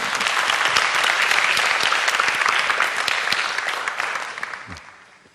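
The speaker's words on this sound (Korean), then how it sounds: "우리 박수 한번 쳐주실까요?" An audience at a live lecture-stage talk applauds a volunteer stepping up for a psychodrama demonstration. The clapping is dense and steady, then gradually thins and fades toward the end.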